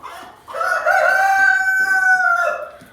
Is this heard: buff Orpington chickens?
yes